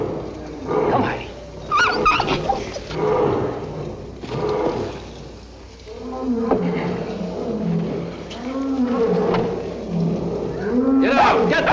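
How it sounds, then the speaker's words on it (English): A dog named Heidi barks and whimpers in a 1953 circus drama, with short yelps and whines mixed into shouting voices and clattering bustle, the animal noises coming in bursts rather than steadily. "Get this dog away."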